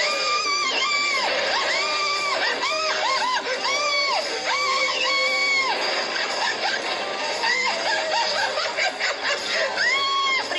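Riders on an extreme amusement park ride scream continuously, with long wavering shrieks that rise and fall in pitch and stay loud and close, mixed with laughter.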